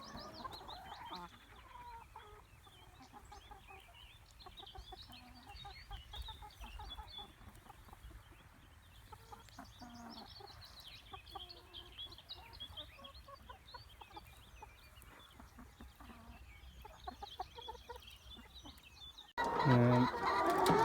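Several hens cluck and murmur softly at a distance while grazing on grass, scattered low calls over an outdoor background, ending in a brief louder rustle.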